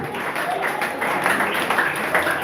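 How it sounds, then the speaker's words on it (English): An audience at a joint conference on economic hardship and suicide among undergraduates applauds, a dense, steady wash of many hands clapping with some voices mixed in. "With same clapping ovation"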